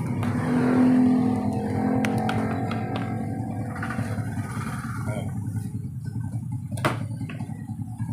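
Single tub washing machine motor running steadily with a low, continuous hum and a rough rumbling drone, close and moderately loud, with a few faint clicks and knocks over it.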